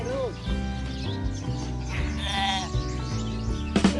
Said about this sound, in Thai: เดี๋ยวเราจะมาดูกันว่า แกะรักพ่อหรือรักแม่มากกว่ากันนะ